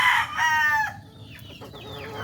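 A Roundhead bulik gamecock rooster gives a short, close, loud crow that breaks off into softer clucks, with no voices.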